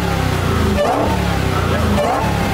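A car engine tuned to 800 hp roars steadily, loud and close, with the rough, sustained drone of revving filling the whole stretch and no talking over it.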